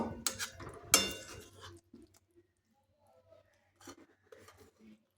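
Egg curry stirred and mixed in a pan, a spoon scraping and clinking against the metal with a wet squish, busy for about two seconds before fading to near silence with a few soft stirs.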